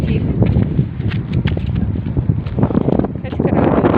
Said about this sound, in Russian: Какой-то сумасшедший ветер.